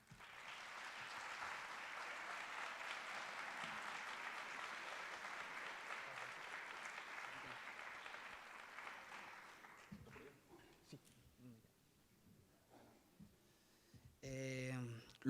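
An audience at the Plan País 2019 panel on Venezuela applauds an economist, a steady round of clapping that lasts about ten seconds before dying away, after which a voice starts speaking.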